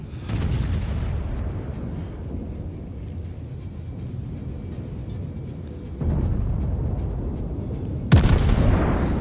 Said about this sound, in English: Some shots out, see what we can do.